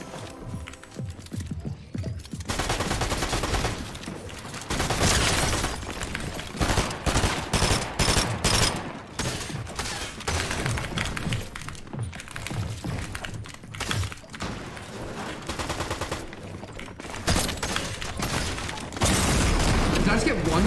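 Shotgun blasts in the video game Fortnite, a series of loud sharp booms and rapid gunfire bursts amid chaotic game action, with a player talking over the top.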